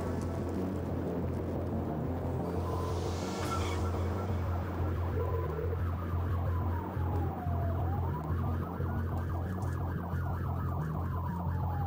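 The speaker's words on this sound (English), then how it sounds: "Sergeant Howard activated his lights and sirens, but the suspect didn't stop" A police car siren wails up and down during a chase over heavy, steady engine and road noise, close and continuous.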